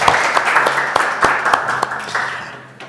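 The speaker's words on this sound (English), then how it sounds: "Would you give them a round of applause?" An audience at a 1 Million Cups community pitch event in Rockford applauds with steady, fairly loud clapping that runs for a few seconds and then fades.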